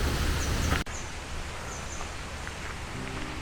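Gusty wind buffets the microphone at a lakeside resort, a steady loud broadband rush that continues throughout with a sharp drop just under a second in, then faint rustling alongside.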